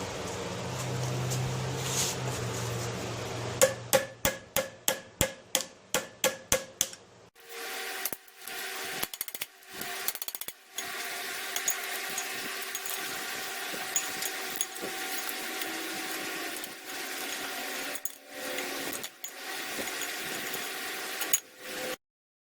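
Metal tool work on the propeller shaft of a 1973 Johnson 50 HP outboard motor while a stubborn cotter pin is pried out: a quick series of sharp close taps, then sustained scraping and rubbing with occasional knocks.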